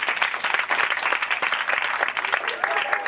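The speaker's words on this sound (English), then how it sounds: "Just clap if you're over 30." A comedy club audience claps in a scattered, uneven burst of applause that carries on steadily for a few seconds, fairly close and lively, with faint voices mixed in.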